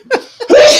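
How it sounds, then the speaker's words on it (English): A person gives a short, explosive sneeze: a quick intake, a brief pause, then a sharp, loud burst of breath that trails off, close to the microphone. "I'm going to sneeze"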